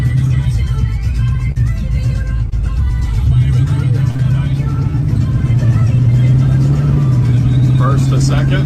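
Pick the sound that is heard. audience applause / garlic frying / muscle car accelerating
muscle car accelerating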